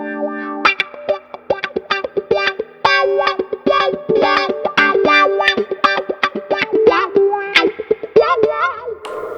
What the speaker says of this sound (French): Donc j'active le compresseur et j'ai la wah.